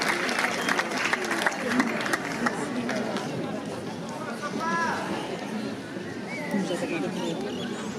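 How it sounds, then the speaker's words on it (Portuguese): A festival crowd applauds at the opening of the Festas da Madalena on Pico, a continuous round of clapping mixed with crowd chatter and voices talking over it. "Recebamos com uma salva de palmas."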